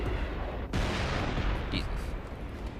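Wraith tank fire in Halo Reach's Tip of the Spear mission on Legendary, a dense barrage of booming blasts and rumbling gunfire that stays loud throughout with no clear pauses.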